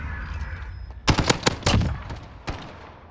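Call of Duty Modern Warfare gunfire in a bot match: a quick burst of several sharp shots followed by one more, moderately loud against a quiet game background.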